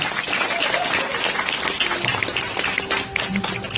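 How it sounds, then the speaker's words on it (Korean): An audience gives warm applause welcoming a medical adviser lecturing on diet, a dense, sustained clapping crowd at close range, with scattered voices and a faint cheer mixed in. "큰 박수로 부탁드리겠습니다"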